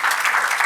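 An audience at the last panel of a conference session bursts into rousing applause, a dense, steady patter of clapping that fills the room without a pause.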